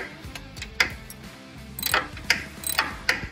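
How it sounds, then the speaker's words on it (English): A socket wrench ratchet tightens a bolt on a Ford Model A transmission, giving close, crisp bursts of clicking with short pauses between strokes. "Sometimes it's best if I can feel the socket, make sure that it's turning, and it is."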